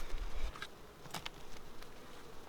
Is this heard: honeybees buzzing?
yes